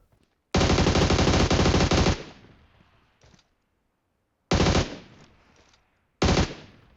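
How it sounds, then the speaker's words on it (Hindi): Bursts of automatic gunfire in the BGMI battle royale mobile game, a long sustained volley followed by two shorter loud bursts, each trailing off in echo, with no talk over them. "इसका दूसरा टीममेट इधर से ही फायर कर रहा था"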